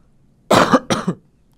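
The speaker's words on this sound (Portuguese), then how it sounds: "Preciso tossir." Two quick, loud coughs in close succession, the second slightly shorter, with near silence before and after.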